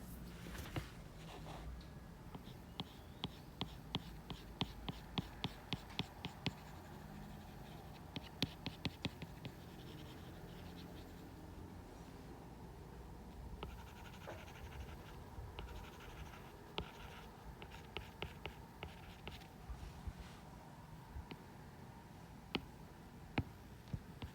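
Crayon or pencil colouring in a primary maths exercise book gives a steady, close scratching and scribbling that runs throughout in quick back-and-forth strokes, with no talk.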